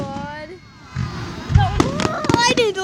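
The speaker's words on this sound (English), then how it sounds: "Haley, that's the fireworks." A fireworks display in Lancaster: several sharp bangs and crackling bursts land close together near the end, mixed with excited talking and squealing voices.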